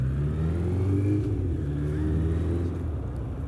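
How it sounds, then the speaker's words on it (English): A 1985 Suzuki GSX-R slabside streetfighter motorcycle runs with a steady, loud low engine drone, with slight pitch swells as it holds revs close by. "Oh, that bike just sounds lovely."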